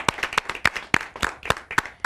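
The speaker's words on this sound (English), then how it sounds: "Another huge round of applause to those girls." Audience applause for a group of girl dancers after their performance at a live Indian community TV show taping in New York, with dense clapping that rises in distinct bursts over about two seconds and no talk.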